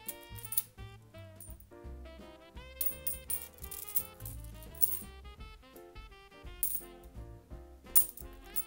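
1-hryvnia coins clink and jingle repeatedly in quick irregular bursts, bright metallic rings close by with no talking.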